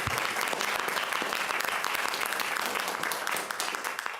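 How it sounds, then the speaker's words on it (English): Attendees at a city council meeting in Oldsmar give a sustained round of applause, many hands clapping in a thick, even wash with a faint murmur of the crowd beneath. "Let's give them all a round of applause again."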